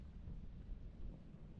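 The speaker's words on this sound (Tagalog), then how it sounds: "malakas ang hangin dito ngayon sa atin" Strong wind buffets the microphone outdoors, a steady, loud low rumble that fills the whole stretch without pause.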